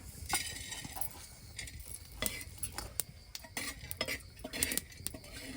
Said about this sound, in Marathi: त्याच्यातच आपल्याला खडे मसाले आणि डाळ्या टाकून भाजून घ्यायचे